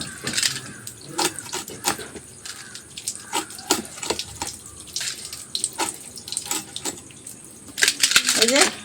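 Pieces of hilsa fish washed with water in a kitchen: running tap water, splashing, and clinks of handling in a sink come in irregular bursts, close and fairly loud, with occasional talking between them.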